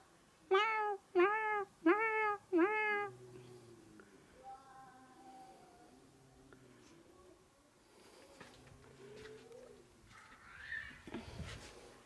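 A small cat meowing on a low wall at night, four loud clear meows in quick succession up close, followed by softer murmurs, with a pigeon or dove cooing and faint distant sounds around it.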